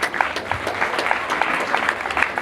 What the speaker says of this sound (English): I want each one of you to clap mightily for yourself.